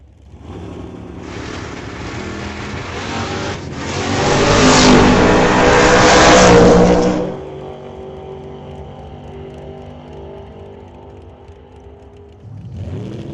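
A 1956 Corvette and a 1967 Camaro launch in a drag race, engines swelling to a loud roar as they accelerate down the track, then fading into a lingering distant drone before another engine rises.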